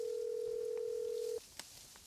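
Steady telephone ringing tone from a mother's unanswered call in a Tamil film: one sustained, fairly faint electronic tone lasting over a second that then cuts off, followed by quiet room noise and a small click.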